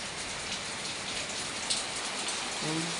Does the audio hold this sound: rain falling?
yes